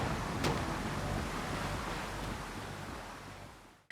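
A waterfall in Ratchet & Clank roars as a steady, loud, broadband rush of falling water, continuous throughout and fading slightly before cutting off abruptly at the end, with no talk.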